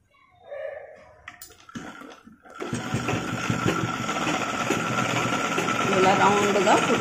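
After a quiet stretch with some handling noise, a sewing machine starts stitching a pleated baby frock and runs in a steady, close whirring rattle until the end.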